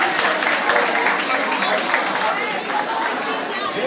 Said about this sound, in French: Attendons l'applaudissement s'il vous plaît.